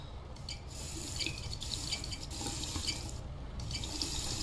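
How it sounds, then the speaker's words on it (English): Faucet water runs steadily in the video game Dayshifts at Kirbo's, a continuous close hiss and splash into a sink with no voices. "That's some nice faucet water though. Look at that. Look at all that flows."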